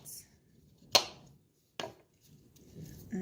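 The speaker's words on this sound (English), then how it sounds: "now we have to take the knife to the apple again" A knife cuts through an apple, giving two sharp, crisp chops about a second apart, close and clear, with quiet room noise between them.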